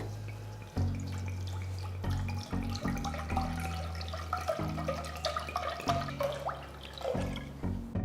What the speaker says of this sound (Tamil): ஒரு பாத்திரத்தில் தேவையான அளவு தண்ணியை ஊற்றுங்க